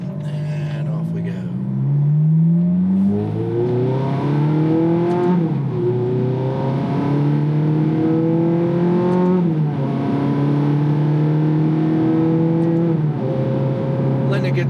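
A 2007 Ferrari F430 V8 accelerating hard on a road in Las Vegas, its engine note climbing through the gears with repeated shift drops, loud and close from inside the car.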